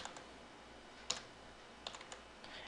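A computer keyboard typing a router command in network configuration software: quiet, sparse key clicks with one sharper tap and a few more near the end, over faint steady hiss.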